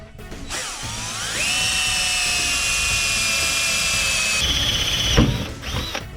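A power drill boring holes through metal during car fabrication work on a Subaru Forester STI, a loud sustained whine that climbs in pitch, holds steady, then drops and winds down near the end.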